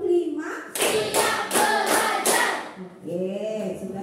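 Pupils in an elementary classroom clap a rhythmic 'tepuk semangat' cheer, five sharp group claps in steady beat, with voices chanting before and after and children's speech under the rhythm.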